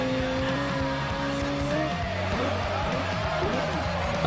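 A car drifts in Forza Horizon, with a steady engine drone and tire squeal under sustained roaring, the pitch sliding and wavering as the car slips sideways.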